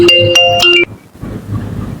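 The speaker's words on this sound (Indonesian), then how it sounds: "Ada telepon ya?" A phone's melodic ringtone for an incoming call chimes a few bright tones close by for under a second, then stops, leaving faint background murmur.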